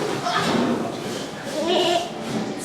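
A child imitates a sheep's bleat with a couple of drawn-out vocal "baa" sounds, with an adult voice speaking around them in a playful indoor setting.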